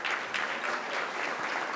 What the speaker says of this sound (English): You could just keep on clapping.